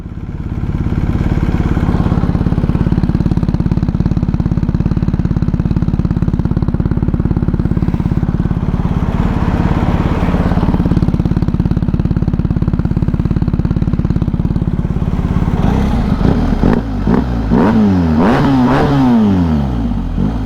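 A BMW 1250 GS motorcycle with adjustable exhaust valves idles loudly and steadily near the pipe, then near the end revs up in several quick rising blips with a clattering edge.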